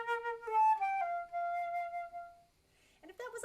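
Quiet flute phrase from measure 23 of a Karg-Elert op. 107 no. 2 etude, sustained tones stepping down into one long held note, then a short louder burst of notes at the end.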